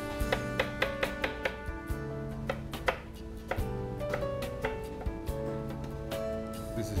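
Food being chopped with a knife on a board makes a steady series of crisp, evenly spaced taps over a tonal musical background.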